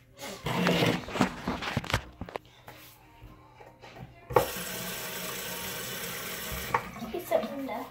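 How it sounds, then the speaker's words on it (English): Water from a sink tap is turned on and pours in a steady, fairly loud rush after some earlier handling noises and movement around the sink. "Turn the water on."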